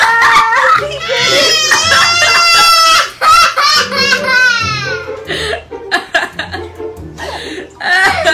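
Chickens cluck and a rooster crows loudly and close by, mixed with the excited voices and cries of children playing with the birds.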